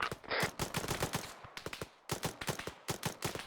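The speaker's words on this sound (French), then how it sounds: "Tir de couverture." Loud, rapid bursts of automatic gunfire in a video game firefight, dense volleys of shots with a brief lull midway before the shooting resumes.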